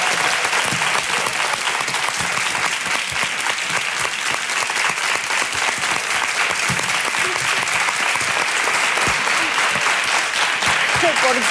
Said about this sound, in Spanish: ¡Otro aplauso para ella, hombre!